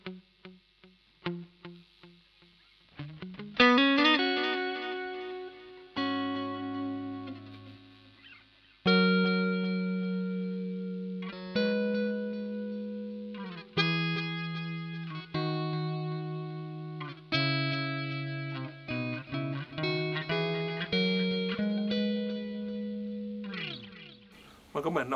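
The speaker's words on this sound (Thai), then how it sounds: "ต่อมาจะเป็นบวก RV นะครับคือเป็นดีเลย์ผสมกับรีเวิร์บนะครับ" An electric guitar runs through a Boss DD-8 digital delay pedal in delay-plus-reverb mode. Single plucked notes and chords trail off in repeating echoes washed with reverb, with pauses between phrases.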